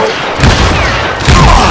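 Gunfire from the video game Call of Juarez Gunslinger, a loud, dense burst of booming shots that continues without pause for under two seconds.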